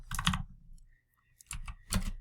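Computer keyboard typing up close, two quick bursts of key clicks separated by a brief quiet gap.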